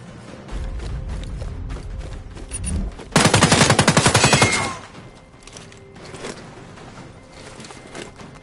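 Gunfire in a PS4 game: a single loud, rapid automatic burst lasting over a second, standing out from busy game noise with no talk over it.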